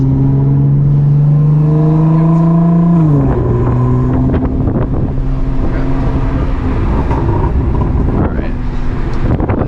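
Audi S4 sedan with a 430 hp engine, 7-speed DSG in manual mode, pulls hard on the road, its tone dropping sharply at a gear change and then climbing again, loud and close from inside the cabin under wind noise.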